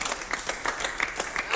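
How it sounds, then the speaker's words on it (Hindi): A group claps together in quick, steady rhythm on the set of a Hip Hop India battleground competition, the sharp hand claps repeating evenly at close range with no voices over them. "जब कैप्टन बनोगे ना, जब भी ऐसी ताली बजाना"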